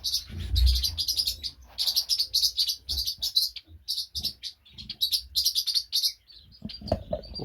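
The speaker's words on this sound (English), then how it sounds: "I know they're chestnut mannikins because that's where I took the eggs from" Chestnut-breasted mannikins in an aviary give rapid, high, repeated chirps and tweets in clustered bursts, fairly close and lively, with brief pauses between the runs.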